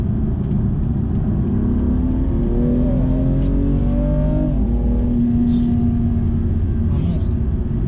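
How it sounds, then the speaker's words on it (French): A BMW M2 Competition with a 410 hp twin-turbo engine pulling hard in third gear, a loud sustained engine drone rising steadily in pitch, heard from inside the cabin with a voice talking over it. "Attention, les deux turbos quand ils chargent,"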